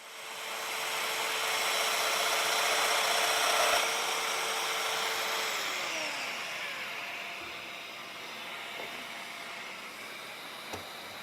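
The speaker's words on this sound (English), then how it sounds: "Next, I had to make the mortises in the ends of each of the stretchers, so I used the domino again to make those." A Domino joiner cuts mortises in the ends of cedar stretchers. Its motor spins up into a steady whine, holds for a few seconds, then winds down and fades out, with a few small knocks near the end and no talking.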